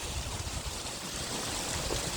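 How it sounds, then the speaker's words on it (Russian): Abundant mountain spring water pours straight out of a rock face overgrown with ferns and moss, a steady broadband rush and splash that stays even and close throughout, with no voices. "Вода стекает прямо из горы."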